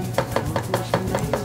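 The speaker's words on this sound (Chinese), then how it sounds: "然后再切洋葱，然后就是要切小丁" A kitchen knife dices onion into small pieces for a Japanese hamburg steak, with six quick, evenly spaced chops on a board, close and crisp.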